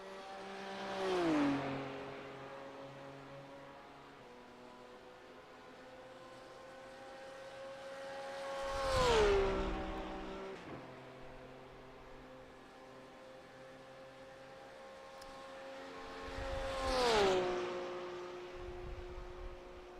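GT3 and GTE race cars in a Le Mans endurance racing game sweep past one after another, each engine note rising then dropping sharply in pitch as it passes, with steady engine drone in between.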